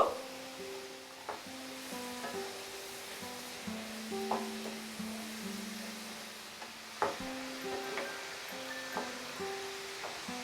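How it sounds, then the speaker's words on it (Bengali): Potatoes frying over medium heat until crispy and golden brown for crispy chili potato, a soft, steady sizzle with occasional light knocks and stirring clatter, fairly quiet and without talk. "মাঝারি আঁচে আলুগুলোকে ক্রিস্পি হওয়া পর্যন্ত আর গোল্ডেন ব্রাউন হওয়া পর্যন্ত ফ্রাই করে নেব।"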